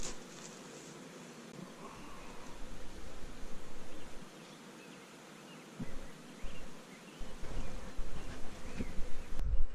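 Honeybees buzz steadily throughout a beehive inspection, a dense close hum that swells and eases, with light rustling near the end.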